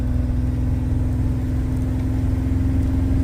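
Chevrolet C1500 pickup truck engine running steadily at idle outdoors in snow, a continuous close low rumble with an even, unbroken drone and no voices.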